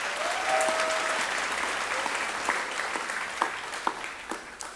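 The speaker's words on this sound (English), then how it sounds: "Could we please have a final round of applause for Graham Ainui, Leonie Pumwa, and Sybil Taule" A studio audience at a televised vocal competition show claps steadily, a thick wash of applause that thins toward the end into scattered individual claps.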